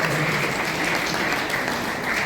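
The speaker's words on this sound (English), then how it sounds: "Let's clap for everybody." A crowd claps steadily throughout, a full, even wash of applause from many hands, with no talking.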